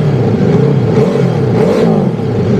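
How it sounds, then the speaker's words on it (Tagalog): Ducati Hypermotard motorcycle fitted with an SC-Project exhaust revving loudly up close, a sustained throaty engine roar that rises and falls in pitch with no voices. "Ducati Hypermotor na naka SC project"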